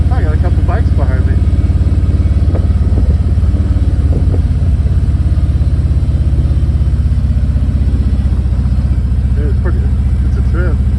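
A couple of motorcycles ride behind the vehicle through a small town and over a little bridge. A steady, loud engine drone runs the whole time, with mid-pitched revving and clatter and no talk.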